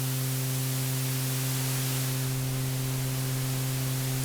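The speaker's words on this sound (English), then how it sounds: "that's a reasonable representation of white noise" The Arturia CZ-V software synthesizer produces a constant, even hiss of white noise, with a faint low hum running beneath it the whole time.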